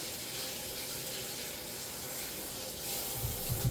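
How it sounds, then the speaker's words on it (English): Tap water runs steadily over fresh basil and oregano leaves being rinsed in a kitchen sink, a constant faint hiss with a few louder splashes near the end; no talking. "I'm gonna give them a quick little rinse"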